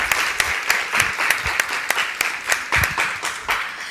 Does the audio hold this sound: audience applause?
yes